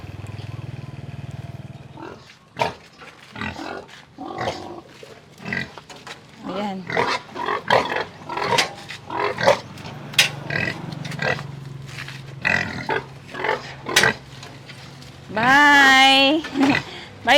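Pigs being sold grunt and squeal close by, with people talking over the noise and a loud drawn-out squeal near the end.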